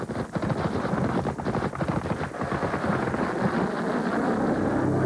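Cluster bomb bomblets exploding in a live test over a wide area, a dense, continuous rumbling crackle of many rapid blasts heard from a distance, loud and unbroken.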